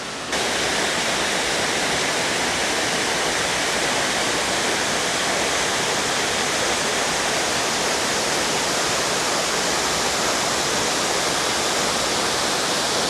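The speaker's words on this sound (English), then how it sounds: "Let me try to get another angle on this waterfall" Waterfall on a creek at Little Shickshinny Falls in Shickshinny, Pennsylvania, a loud, steady broadband roar of falling water, close and continuous with no voices.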